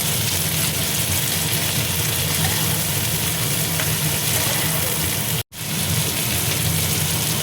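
Tomato and capsicum frying in a pan for a Chinese-style snack, a steady dense hiss of sizzling that runs unbroken and loud, with one brief dropout near the end.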